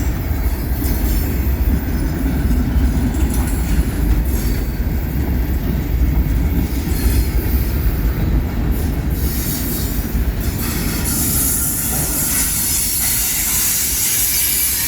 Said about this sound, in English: That's one of the old Florida East Coast, I believe, locomotives.